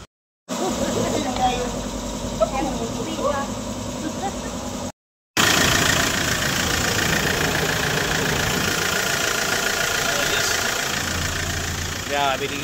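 Hyundai Porter2 with a D4CB diesel engine, low on power and suffering blow-by, idles with a steady, loud knocking rumble that runs almost without a break for the whole stretch.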